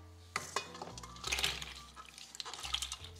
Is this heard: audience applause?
no